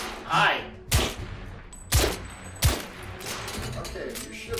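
Steampunk-era gunfire from The Order 1886 video game: three sharp, loud shots spaced about a second apart, each with a short decaying tail, over a low game ambience.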